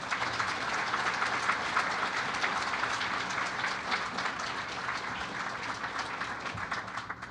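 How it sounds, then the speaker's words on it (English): A luncheon audience applauding a panel, continuous dense clapping from a roomful of people, steady and moderately loud, tapering slightly at the end. "Everybody, a big round of applause for our panelists."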